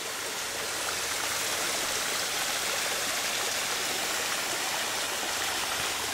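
Steady, full rushing of a stream at a natural bathing spot with clear water, a dense broadband wash of flowing water heard close and loud throughout with no voices.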